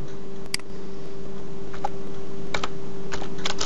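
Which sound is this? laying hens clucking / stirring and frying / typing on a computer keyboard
typing on a computer keyboard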